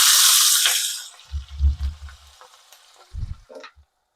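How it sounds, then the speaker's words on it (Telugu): Onions and green chilies hit oil left over from frying dried fish, giving a loud, close hiss that fades within about a second, followed by a few low, dull thumps. "అదే నూనెలో, అంటే మనం ఇప్పుడు ఎండు చేపలు వేయించిన నూనెలోనే ఇవి దోరగా వేయించుకుందాం."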